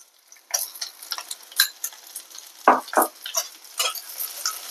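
Dry coconut and tomato roast in a pan, with scattered crackles and soft scraping stir strokes in an irregular rhythm, close and fairly quiet.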